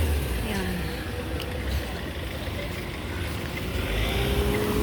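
A vehicle rolls past along a road, a low engine and tire rumble holding steady without stopping, with background noise around it.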